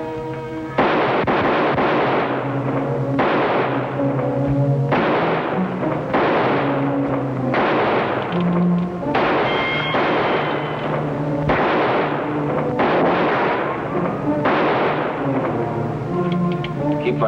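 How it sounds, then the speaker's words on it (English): Heavy gunfire in a western TV show: repeated loud shots and blasts in quick bursts, continuous for the whole stretch with no talk. "Keep firing, Toro."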